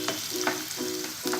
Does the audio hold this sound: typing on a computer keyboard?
no